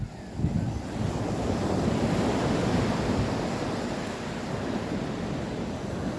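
Sea waves wash steadily onto a beach, a broad continuous rush of surf mixed with gusty wind noise on the microphone, with no voices.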